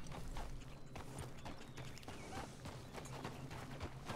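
Horse hooves walk steadily over ground in Red Dead Redemption 2, a dense run of soft, near thuds against a busy game ambience.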